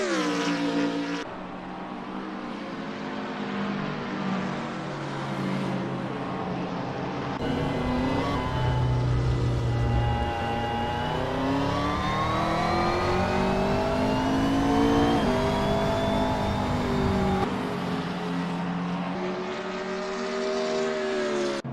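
McLaren 650 GT3 and rival GT3 race cars at a Barcelona night race in Assetto Corsa, engines droning loudly with steady upshifts and sweeping pitch changes throughout, no voices.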